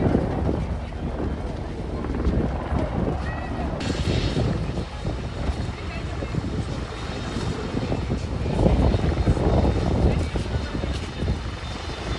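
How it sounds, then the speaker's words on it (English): A helicopter's rotor and engine drone steadily throughout at an airshow, with wind buffeting the microphone and a voice talking over it. "It's a nice looking helicopter."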